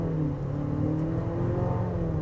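A 2025 Nissan Murano Platinum accelerates steadily while merging into traffic, its engine and road noise rising in a smooth, continuous drone heard from inside the cabin, with no speech.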